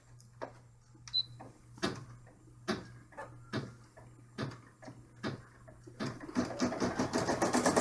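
Embroidery machine stitching an outline and roof detail onto tan felt for an in-the-hoop dollhouse bag, regular mechanical thumps and clicks over a low hum, speeding into a dense rapid rattle at the end.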